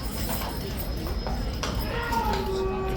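A horse shifts and turns inside a horse box, its hooves knocking and clopping on the floor in irregular thuds, while a voice speaks over steady background noise.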